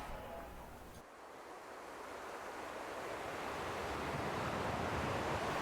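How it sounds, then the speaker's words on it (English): Ocean waves lap against a sandy beach as wind blows, making a soft, continuous wash of surf that gradually swells louder, with no voices. "you hear the soft sounds of ocean waves lapping against the sandy beach. The wind blows"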